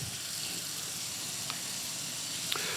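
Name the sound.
kitchen sink spray nozzle spraying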